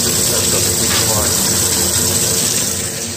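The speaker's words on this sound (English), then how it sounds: "I can suck water out of the tank and put it on the floor" Water is siphoned out of an aquarium tank during a water change, making a loud, steady, continuous gushing rush that runs without a break for the whole stretch.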